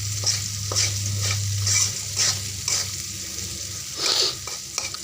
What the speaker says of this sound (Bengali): যতভাবে ভালো করে নাড়াচাড়া দেবেন তাতে ক্লিয়ার হবে যাতে লেগে না যায়